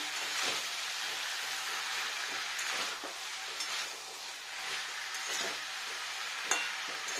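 Broccoli being stirred and sautéed in a pan with tomato and garam masala, a steady close sizzle broken by repeated scraping strokes of the spoon, with no talking.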